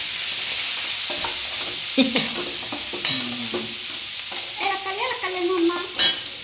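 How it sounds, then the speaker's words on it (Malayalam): Paneer and sliced onion sizzle in a frying pan while a spoon stirs them, giving a steady hiss broken by several distinct scraping strokes and clinks of the utensil against the pan, close by with no talking. "പനീർ ഇതിലേക്ക് ഇടാം. ആദ്യം ഇളക്കിക്കോ."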